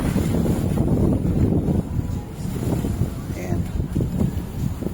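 Blustery wind buffets the microphone with a steady low rumble, and a person talks over the gusts throughout while installing polyethylene plastic wrap as a moisture barrier.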